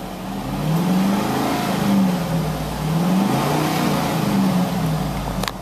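A 2006 Cadillac Escalade AWD engine revs steadily in several smooth rising and falling swells, close and fairly loud, with a low rumble underneath throughout.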